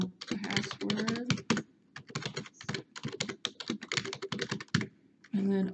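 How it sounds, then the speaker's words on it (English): Someone types a password on a computer keyboard, producing quick bursts of close, crisp key clicks in uneven runs separated by short pauses, with someone speaking over parts of it. "and then type in a password"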